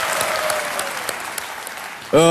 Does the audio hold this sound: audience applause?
yes